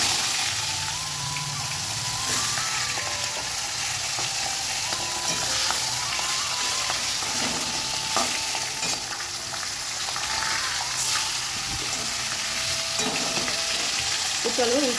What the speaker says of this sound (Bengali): তো চলো মাছগুলোকে এখন তেলের মধ্যে ছেড়ে দিই।